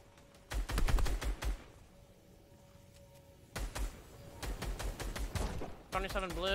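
Gunfire in Fortnite, loud bursts of rapid shots in two clusters with a quieter pause between them and players talking over the action.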